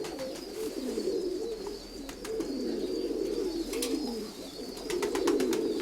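Several domestic pigeons, including a blue-grey hen, coo in low, repeated rolling calls close by, with scattered clicks and flutters and no speech.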